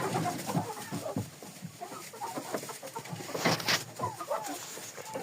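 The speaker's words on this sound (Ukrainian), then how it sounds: "зайдемо до курей" Several Jersey and Livensky chickens clucking and murmuring close by in a coop in early morning, an irregular chorus of soft clucks with occasional sharper calls, no talking.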